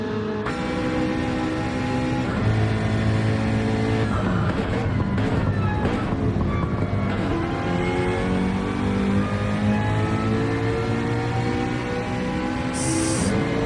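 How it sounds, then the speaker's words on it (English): Porsche and McLaren TCR racing cars in a sim racing game, loud and close, their engines whining as they rev up and down through the gears, overlapping as the cars race each other. "TCR battle, Weyburn versus Stu, Porsche versus McLaren."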